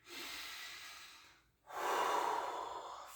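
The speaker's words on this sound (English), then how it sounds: "We're just going to do 9 breaths here." Deep, slow breathing during a qi gong exercise: a long airy breath, a brief pause of near silence, then a second, fuller breath, close and steady with no talking.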